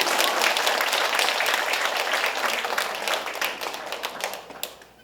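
An audience at a healing talk concert breaks into lively applause. The clapping comes dense and bright at first, then thins into scattered claps and dies away within about five seconds.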